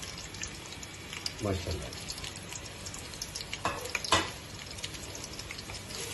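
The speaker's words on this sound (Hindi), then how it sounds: "इसमें मैंने घी डाल दिया, फ्लेम स्टार्ट कर दिया। अब इसमें जाएगा प्याज।" Onion fries in ghee in a pan for chicken pakora, with a faint, steady low sizzle and a few soft stirring clinks. Someone speaks briefly over it.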